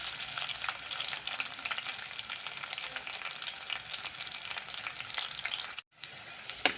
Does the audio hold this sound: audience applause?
no